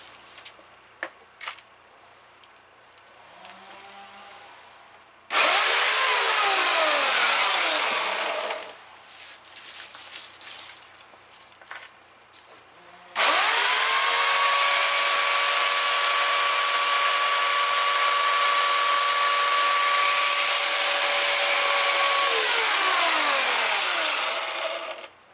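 A chainsaw cuts through wood in two long loud bursts, the engine revving hard with a sharp rising and falling whine, first for about three seconds, then a sustained roaring cut of about twelve seconds, with idle and quieter handling between.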